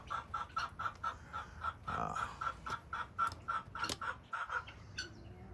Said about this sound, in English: There's a chicken laying an egg in there.